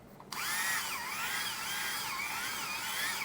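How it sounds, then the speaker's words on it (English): A small high-pitched power tool drills countersunk screw holes into the ends of a Mini4WD rear stay, starting abruptly and then whining steadily at close range with slight wavering pitch and no talk. "let's create some countersunk screw holes on the ends"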